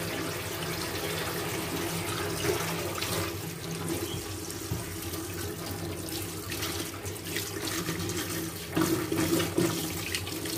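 Water runs steadily from a tap during washing, a continuous close splashing stream with small shifts as items move under the flow.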